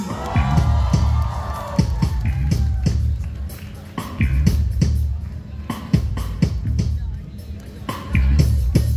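Applause and cheering from a festival audience for the food vendors, with loud bursts of clapping and whoops rising in waves over steady crowd babble and a voice on a microphone.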